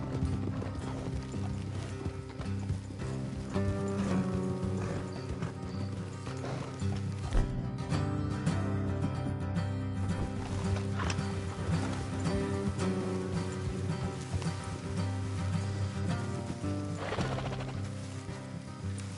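Steady clip-clop of horses moving at pace in the video game Red Dead Redemption 2, with a continuous musical bed and mechanical clatter, no talking.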